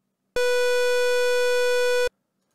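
A bright, hollow synth square wave, pitched an octave up, sounds alone for nearly two seconds, starting and stopping abruptly.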